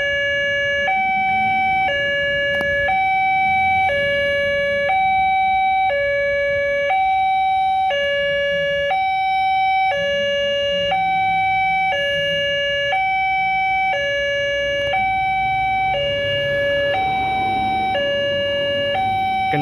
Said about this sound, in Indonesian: Gendanya baru bunyi habis menutup.